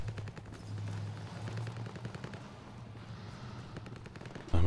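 Rapid gunfire crackles nonstop in a Battlefield Hardline firefight, dense bursts of automatic shots rattling close and loud for several seconds, with a heavier blast at the very end.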